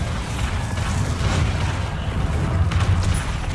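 The Bombarda explosion spell in Hogwarts Legacy, a loud sustained rumbling blast with grinding, creaking mechanical debris and a few sharper impacts near the end, with no talk.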